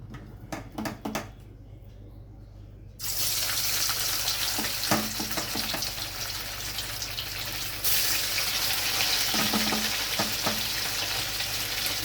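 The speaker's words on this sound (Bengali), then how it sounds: "এবার আমি মাছগুলো ভেজে নেব" A few faint clicks, then a loud, steady hiss of catla fish pieces frying in hot oil that swells even stronger partway through and keeps crackling.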